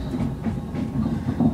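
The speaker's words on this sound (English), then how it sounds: "There's the Virgin Pendolino." Virgin Pendolino train passing close by, a brief rumbling rush with quick rhythmic rail clatter heard from aboard another moving train.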